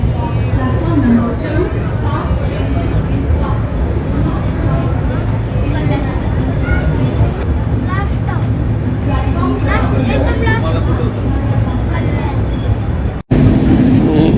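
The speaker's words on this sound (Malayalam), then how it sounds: "ഇത് കർജത്ത് റെയിൽവേ സ്റ്റേഷനാണ്" The MAS-LTT SF Express at Karjat railway station gives a continuous low rumble and rattle from inside the train, steady and close, while a person talks over it almost the whole time.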